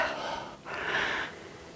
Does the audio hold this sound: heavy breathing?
yes